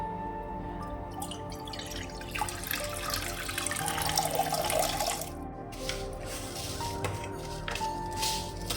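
Coconut water pours and drips into a bowl in a kitchen, a steady trickling splash running the whole time with a fuller gush in the middle, with no one talking.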